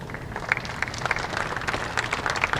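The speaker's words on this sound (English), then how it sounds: "a big round of applause for our finalists and all the competitors this week" An audience at a senior women's bowling stepladder final applauds the finalists, a sustained, fairly loud round of crowd clapping with scattered sharper claps, heard throughout without speech.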